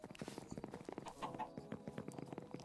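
Chickens clucking inside a farm room in the modded Minecraft game StoneBlock 4, with a steady run of short, overlapping clucks and squawks at close range and no talk.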